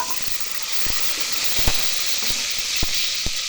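Small onions dropped into about 50 grams of hot oil set off a steady, loud hiss and sizzle, broken by a few sharp crackles and pops close by.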